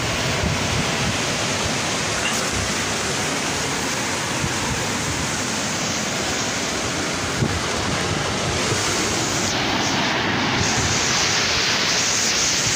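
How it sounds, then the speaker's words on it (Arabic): Rough sea surging and crashing against a rocky shore, a continuous dense roar of breaking surf mixed with wind buffeting the microphone, loud and unbroken throughout with no voices. "وبالاخص ملي كيكون البحر واعر"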